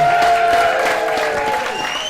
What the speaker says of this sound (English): Joseph Rogers, everybody make some more noise for him.